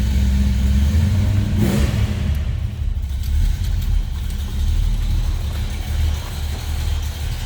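A 1966 Ford Mustang Shelby GT350-Hertz tribute with a 289 V8 runs after a cold start, its loud, steady low rumble close by, with a brief rev swell early on before settling to idle.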